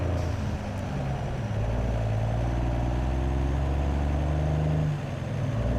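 Truck engine in Farming Simulator 22 running steadily, a loud, close drone whose pitch climbs and drops between gear shifts, with a brief dip near the end.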